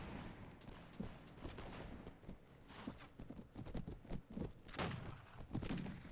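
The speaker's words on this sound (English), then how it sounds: "What are you shooting at?" Mount & Blade battlefield with musket and rifle fire amid hoofbeats, a rapid scattered volley of distant shots and thumps over galloping horses, fairly faint and uneven.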